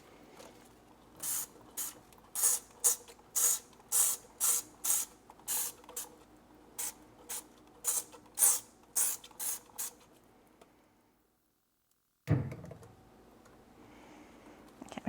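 Repeated short bursts from a hand spray bottle misting Pure Crop onto alocasia leaves, about twenty quick close pumps in an uneven rhythm, then a pause and a brief rustle of handling.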